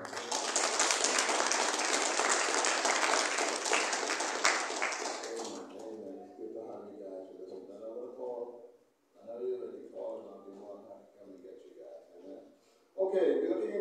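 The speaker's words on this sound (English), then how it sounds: "So I want to just give them a round of applause." A church congregation claps together in a loud, dense burst of applause for about five seconds, then it fades and a voice speaks over the quieter room.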